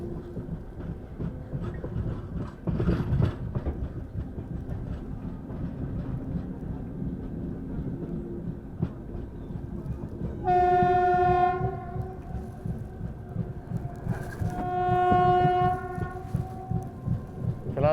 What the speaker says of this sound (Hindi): भयंकर स्नो के बीच से गुजरती हुई अपनी ट्रेन।